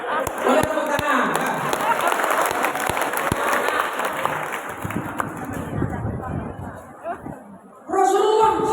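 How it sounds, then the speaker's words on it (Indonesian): Audience at an Islamic religious lecture breaks into sustained applause, a dense wash of clapping with crowd noise and some chatter that holds steady for several seconds, dips, then returns loud near the end. "Boleh tepuk tangan."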